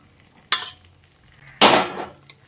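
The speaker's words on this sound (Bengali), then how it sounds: "এবার আমি ভেজে রাখা বেগুনগুলো এর মধ্যে দিয়ে দিচ্ছি।" Fried eggplant pieces go into a pan of cooked potatoes in two bursts of rustling and clattering, with a light sizzle and quiet gaps between.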